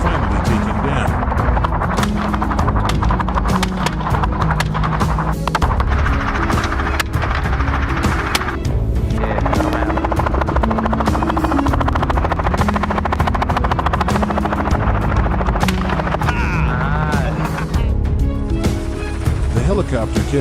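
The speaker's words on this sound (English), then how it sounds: "The helicopter kept circling," A helicopter circling during a wild boar hunt, its loud, steady rotor drone filling the whole stretch, continuous and close, with a voice talking faintly underneath.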